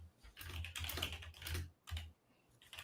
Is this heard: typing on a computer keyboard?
yes